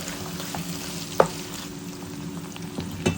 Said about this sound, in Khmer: ឆាចូលគ្នាបែបនេះ